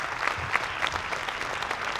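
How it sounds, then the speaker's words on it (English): Audience at an archery tournament finals applauds an archer named Heather; a short, steady round of clapping with a few sharper individual claps standing out. "let's give Heather another round of applause"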